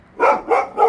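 Three short, sharp dog barks in quick succession, fairly close and loud, with brief quiet gaps between them.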